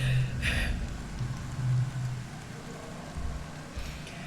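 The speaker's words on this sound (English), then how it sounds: "Rex peers out from under an awning at the torrential rain." Torrential rain in the video game I was a Teenage Exocolonist, a steady broadband wash of downpour with low rumbling underneath, continuous and fairly loud throughout with no speech.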